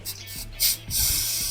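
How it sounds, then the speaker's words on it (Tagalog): Mototek chain cleaner sprayed onto a motorcycle chain in two bursts, a short hiss followed by a longer steady aerosol spray, close and fairly loud. "Tapos spray natin sa ating kadena."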